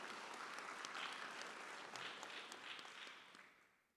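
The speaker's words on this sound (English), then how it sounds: "let's give them a big applause for all the faculties there" Graduates and guests applaud faculty at a medical school commencement, a fairly faint, diffuse crowd clapping that holds briefly and then fades away to near silence.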